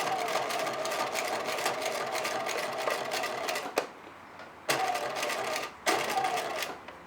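A sewing machine stitches a basic binding, running in a steady fast mechanical whir for several seconds, stopping briefly, then starting again in two shorter bursts, close and clear with no talk.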